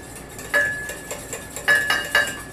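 A fork clinks sharply against a bowl in a handful of close, bright taps while olive oil is mixed into a vinaigrette by hand instead of with a whisk.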